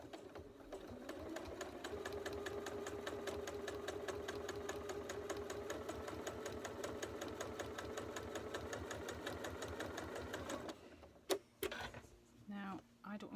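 A sewing machine stitches fabric in a fast, even, rhythmic chatter for about ten seconds, then stops, followed by a few close clicks and handling sounds.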